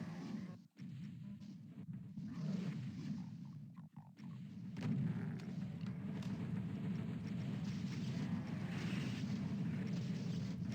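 BFG blasts and rocket fire against barons in Doom rumble as repeated low booms and explosions, steady and fairly loud throughout with a few sharp breaks, with no talking.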